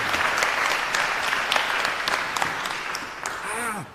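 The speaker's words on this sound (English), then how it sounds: "y'all give them a round of applause" Sustained applause from an audience honoring state leaders at a Georgia NAACP Day at the Capitol gathering, steady and fairly loud, with a brief whistle and a voice rising near the end.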